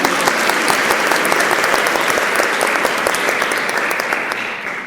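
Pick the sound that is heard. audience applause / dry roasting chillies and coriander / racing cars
audience applause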